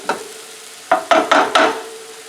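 Paprika and cumin roast in a frying pan with a soft sizzle, broken by several short scraping stirs in quick succession, close and loud with no talking.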